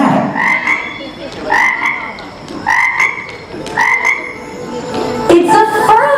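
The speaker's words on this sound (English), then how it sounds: "It's a frog." A frog croaks in a regular series of loud, close calls, about one every second, each a rising, buzzy croak, with other faint sounds underneath.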